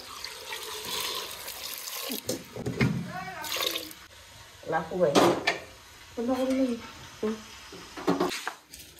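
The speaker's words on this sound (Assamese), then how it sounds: "আৰু ইয়াতে অলপ পানী দিওঁ" Water is poured into a pressure cooker holding cut jackfruit and potatoes, with splashing and clattering from the pot in a home kitchen, broken up by short stretches of talk.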